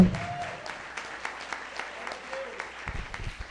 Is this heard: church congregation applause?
yes